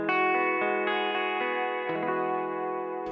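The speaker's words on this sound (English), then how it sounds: "I'm also going to send it to that same atmospheric space reverb we had." A Fender Acoustasonic Strat guitar rings out sustained chords through a spacious atmospheric reverb, notes struck in a steady rhythmic pattern with long shimmering tails, clean and alone.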